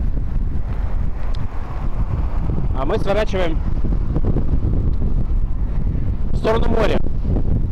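Wind buffeting the microphone while cycling toward the sea through Espoo, a steady low rumble running throughout under a man's speech.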